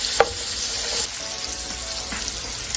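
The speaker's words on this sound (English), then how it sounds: "We're gonna saute our onions." Onions sauté in hot grease for collard greens, giving a steady close sizzle with a couple of sharp spatter pops, and no voices.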